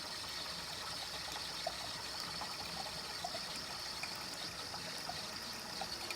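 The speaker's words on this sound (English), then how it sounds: "the machine is siphoning in this case water" A steady thin stream of water runs from a Saeco espresso machine's spouts, a faint continuous trickle with a low mechanical hum beneath.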